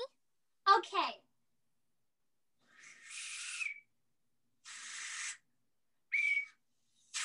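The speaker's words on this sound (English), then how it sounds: "Blow the whistle quick, Jimmy." A small whistle blown in several short, breathy toots with pauses between, following a brief burst of a voice; fairly close and moderately loud.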